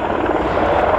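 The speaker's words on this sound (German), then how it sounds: "the three light utility helicopters, the LUHs, that delivered the Special Operations Forces are arriving to recover the troops" Military helicopters, including a CH-53 and light utility helicopters, arrive at an air show display. Their engines and rotors make a loud, steady roar that fills the brief moment without interruption.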